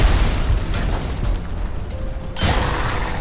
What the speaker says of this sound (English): It's a unique shotgun offering very good gunplay.